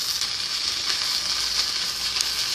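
Butter sizzles in a hot pan for shrimp fried rice, giving a steady, close hiss that holds evenly throughout with no talking.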